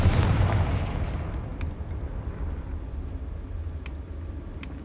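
A Confringo spell blast goes off in the Hogwarts Legacy video game, a loud booming burst at the start that decays into a rumbling tail, with faint clicks scattered afterward.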